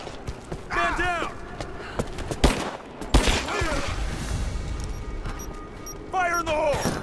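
Bursts of gunfire in the video game Rise of the Tomb Raider, scattered shots and rapid volleys crackling amid a firefight, with voices shouting over the shooting.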